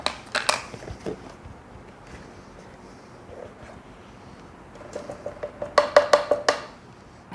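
Cornstarch is measured and added to a bowl for a chocolate flan. Scattered light clinks of a spoon against a bowl sound first, then a quicker cluster of taps and scrapes near the end, all close up and without speech.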